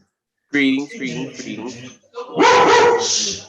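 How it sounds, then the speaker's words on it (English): A dog barks and yips in the background while a person greets people in the foreground, during an online health board meeting. "that's my dog barking."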